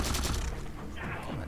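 Rapid gunfire bursts from the video game Halo 4, dense and continuous across the moment with a player's voice talking over the shooting.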